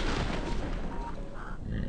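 Gunfire in the video game Fortnite, a dense run of rapid shots over a low rumbling bed, with a voice speaking faintly underneath.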